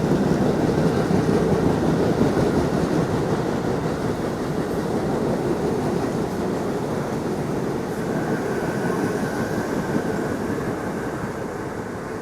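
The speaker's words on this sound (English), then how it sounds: "here's a train coming from Queens, going to Coney Island." A New York City subway train rumbles past nearby in Brooklyn, a loud steady roar of wheels on rails with faint clatter, easing slightly toward the end.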